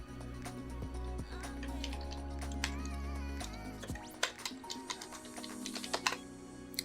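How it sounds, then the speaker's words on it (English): Rapid keystrokes on a computer keyboard clatter near and clear in irregular bursts over a steady low background hum, with no talking. "That's definitely where I'm typing it."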